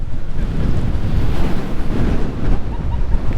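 Strong gusting wind buffeting the microphone on the clifftop edge at the Giant's Causeway, mixed with the roar of rough sea surf below, loud and continuous with low rumbling gusts.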